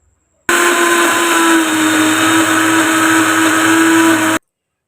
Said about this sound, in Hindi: अब हम इसे ग्राइंडर जग में डाल के ग्राइंड कर लेंगे अच्छे